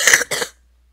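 Two quick, harsh coughs close to the microphone, one right after the other, then silence.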